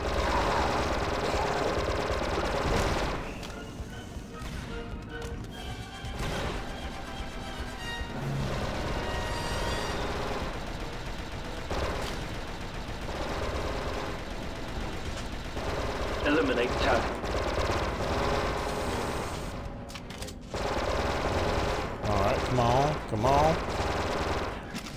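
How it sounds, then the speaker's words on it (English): Rapid automatic gunfire rattles almost nonstop through a Star Wars Republic Commando firefight, loud bursts layered with explosions and engine rumble while a player talks over the shooting. "They're providing the cover fire"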